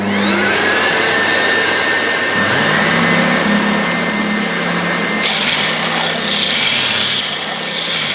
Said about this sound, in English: Now I'm going to start off with the vacuum.